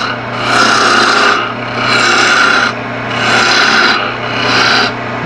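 A bowl gouge cuts into a spinning piece of wood on a lathe in four long scraping passes with short pauses between them, loud and close over a constant motor hum.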